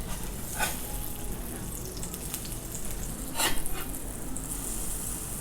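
Squash pancakes sizzling and frying in a pan after being flipped, a steady close crackle with a couple of brief clinks of a utensil.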